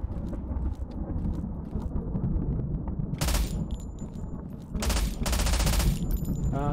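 Gunfire from a shotgun in the survival shooter game Zero Sievert, loud blasts in two bursts with a dense rumble and noise beneath.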